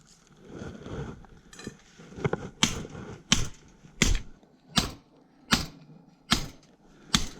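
A stake is pounded into a garden bed covered with black plastic using a sledgehammer, with about nine loud, evenly spaced impacts close by after some softer handling noise.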